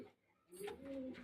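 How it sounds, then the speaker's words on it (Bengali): Pigeons at a metro station give a soft, short coo after a quiet start, faint and low in a hushed background. "দেখেন এখানে অনেক পায়রা আছে, খুব সুন্দর সুন্দর পায়রা আছে।"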